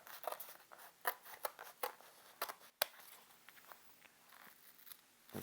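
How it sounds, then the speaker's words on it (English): Hand shears cutting a piece of sheet metal for a tube phono preamp chassis: a series of quiet, sharp snips and crunches in an irregular rhythm, close but faint, with no talking. "we cut out the actual piece of metal"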